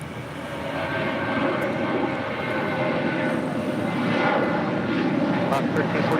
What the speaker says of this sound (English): It's JetBlue Airways Flight 1079 coming in from Las Vegas on an A320.